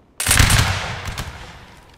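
Musket volley crashing out on command in the game Napoleonic Wars, one loud, sudden burst of many overlapping shots that decays into a rolling echo over about two seconds.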